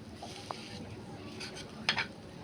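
Food gets mixed in a pan with a soft continuous sizzle, a single light clink early on and a brief louder scrape near the end, all close and without speech.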